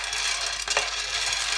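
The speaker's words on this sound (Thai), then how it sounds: "คั่วไปเรื่อยๆจนกว่าจะได้ความหอมนะคะไม่เอาไหม้นะคะ" Soybean flour dry-roasted for kinako in a dry pan, giving a steady, dense hissing scrape of stirring throughout, with a brief louder scuff midway, close and alone.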